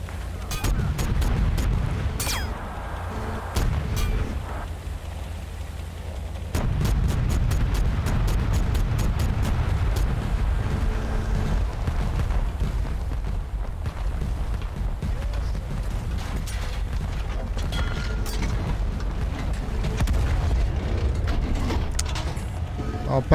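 In the video game Total Conflict: Resistance, airstrike explosions and gunfire crackle through a battle as repeated sharp booms and bursts over a dense rumbling din, with a player talking throughout.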